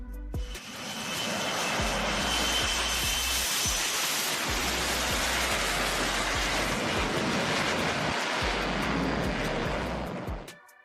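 Fighter jets roar overhead during a military operation over the Caribbean Sea, a loud, sustained broadband engine roar that swells in quickly, holds for several seconds and fades at the end, with no talk.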